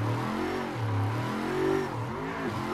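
A 300-horsepower car engine revs under throttle, rising and falling in pitch as it surges, with a loud, close and steady engine note running throughout.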